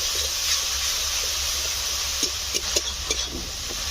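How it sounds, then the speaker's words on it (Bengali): Shrimp sautéed with ginger paste, tomato paste, turmeric powder and salt sizzle in a pan as a steady hiss, with a few quick scrapes of a spoon toward the end. "হলুদ গুঁড়ো লবণ ভালো করে কষে দিতে হবে"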